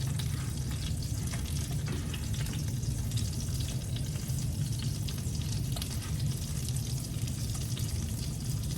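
Pieces of peanut pork frying and browning in a pan give a steady, dense sizzle with crackly spatter throughout, close and even in level, with no talking.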